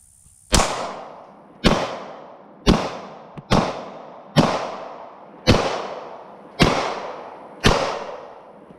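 A Glock 23 pistol fires .40 caliber rounds outdoors, eight sharp loud shots at roughly one-second intervals, each cracking and then echoing away.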